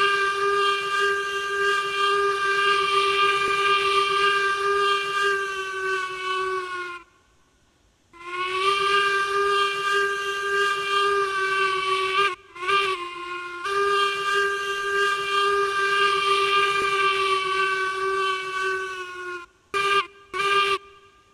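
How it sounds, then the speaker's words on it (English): A steam locomotive in the train game Railroads Online sounds long, loud chime whistle blasts with an eerie, hollow tone. Two sustained blows are separated by brief pauses, followed by a third, then short clipped toots at the end. "That was the whistle. It sounds like a ghost."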